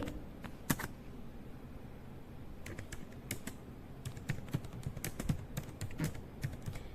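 Steady typing on a computer keyboard while editing a file in Vim, quiet and close, with irregular key clicks and a few sharper taps over several seconds.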